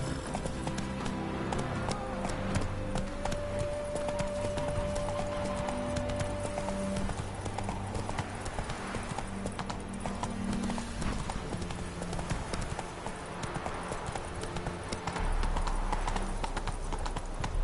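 Hooves of the horse Roach clip-clop steadily in a brisk gallop, loud and close, with a whinny and music running underneath throughout.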